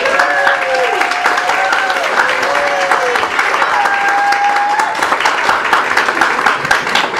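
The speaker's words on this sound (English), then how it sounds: "And please, some applause for Rita." Audience applause at a science pub in Anchorage, steady dense clapping that runs the whole stretch, with voices calling and chattering over it.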